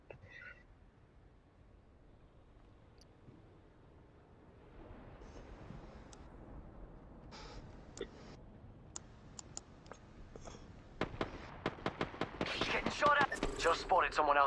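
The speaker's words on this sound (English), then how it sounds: "let's shoot the lifeline" Video game gunfire aimed at Lifeline starts faintly and builds into sharp, rapid clicking shots and bursts toward the end, growing louder and denser.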